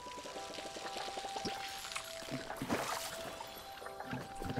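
Watering plants in the video game Palia: a soft pouring, splashing water sound with light clicky tapping over it, steady and fairly quiet throughout.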